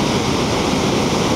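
Steady ocean surf at Sendai Shinko beach in Japan, a loud, continuous wash of breaking waves with no distinct individual crashes, heard alone without voices.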